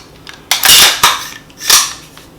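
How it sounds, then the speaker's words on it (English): A 6.5 Grendel AR-15 rifle being checked clear, three loud close metallic clacks as the action is worked, each a sharp snap with a short ring. "let's make sure my rifle is clear"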